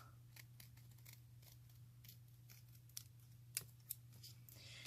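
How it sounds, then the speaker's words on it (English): Scissors trimming paper into rounded corners for a junk journal, a faint, close series of soft snips and clicks in an uneven rhythm, with a few sharper cuts near the end and no talking. "I just take my scissors and I just trim it round cornered"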